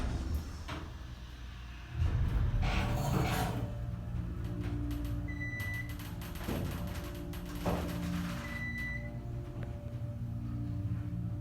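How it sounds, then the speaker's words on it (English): Motor of an older Otis Series 1 hydraulic elevator at a Pigeon Forge inn, a steady low hum with a thump near the start, mechanical clicks and brief high beeps over it. "Listen to the motor."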